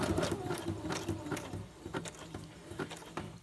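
A sewing machine stitches a zigzag at moderate speed, a close, fairly quiet rhythmic patter of needle strokes that slows slightly toward the end, heard alone without talk.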